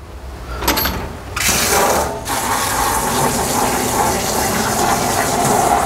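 Water from a tap runs steadily into a sink as chocolate-making ingredients are rinsed, a loud, close, continuous splashing gush that starts after a brief sputter and carries on throughout.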